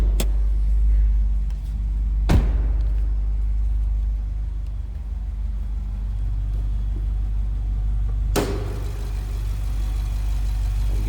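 Steady low engine rumble from a 2018 Jeep Grand Cherokee SRT 4WD with a Hemi V8 driving down the road, heard from inside the car, with two sharp thumps breaking the constant drone.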